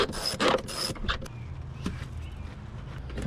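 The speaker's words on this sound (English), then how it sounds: "Next, we're gonna take off this hose." A hose is pulled off in the engine bay of a fourth-generation Toyota 4Runner, with quiet close-up clicks, creaks and plastic scrapes in a few short bursts, then mostly stillness.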